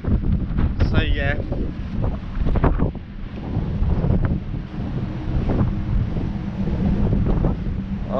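Strong wind buffets across the open deck of the P&O Ventura cruise ship in a loud, continuous roar, with choppy sea below and a person talking under the gusts.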